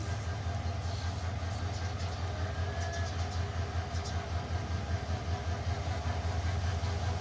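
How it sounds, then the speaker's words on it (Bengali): A long-distance intercity train rolls slowly toward a station in Bangladesh, a low continuous rumble with faint rail clatter, moderately distant and steady throughout. "দূরপাল্লার ট্রেন আমরা দেখতে পাচ্ছি ধীরে ধীরে এগিয়ে আসছে স্টেশন অভিমুখে আন্তনগর ট্রেনটি"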